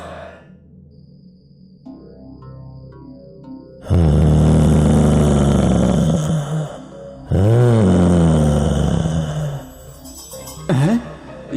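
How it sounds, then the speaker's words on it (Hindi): Someone cries and wails from inside a well in a horror drama sound effect, with long, hollow, moaning sobs rising and falling in pitch, loud and echoing, broken by short pauses, over a quiet, eerie background. "ये तो किसी के रोने की आवाज है, अंदर कुएं से आ रही है।"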